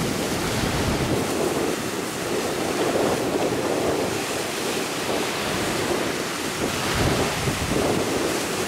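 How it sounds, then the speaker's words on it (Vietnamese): Big ocean waves crash and surge continuously around a small fishing boat far out at sea, loud and close, with heavy wind buffeting the microphone throughout and no voices. "Bây giờ ra tới ngoài này sóng nó dập rất là dữ."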